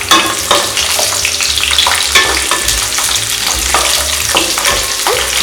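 Ginger and green chilies frying in hot oil for a chicken gravy, giving a steady close sizzle with repeated stirring scrapes and clinks throughout, no voices.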